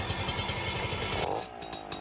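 A 1970s Fantic Caballero 50 moped's small two-stroke engine buzzes and revs briefly, a rapid rattling putter close by that dips slightly near the end.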